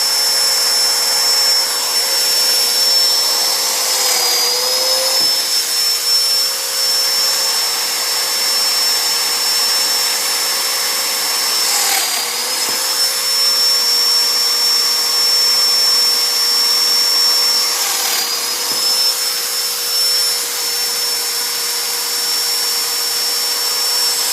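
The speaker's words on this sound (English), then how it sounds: "we're going to go ahead and plunge the domino, the dominoes into the base piece" A Festool Domino joiner runs with a loud, steady motor whine as it plunges into a wooden base piece, the tone dipping briefly about three times during the cuts.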